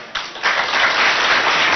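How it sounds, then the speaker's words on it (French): A crowd at a Catholic school event breaks into steady applause, many hands clapping together in a dense, sustained wash that swells after a brief start. "Applaudissons pour l'école catholique associée."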